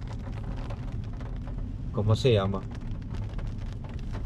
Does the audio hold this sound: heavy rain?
yes